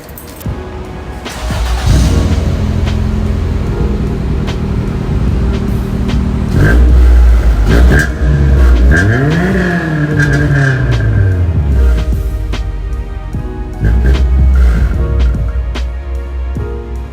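A Toyota Corolla AE94 wagon's engine starts and idles up close, then revs through several rising and falling sweeps, settles, and revs again near the end, loud and steady with no speech.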